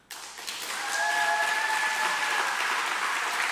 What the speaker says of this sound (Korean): 권사회 임원을 맡고 계신 분들에게 박수를.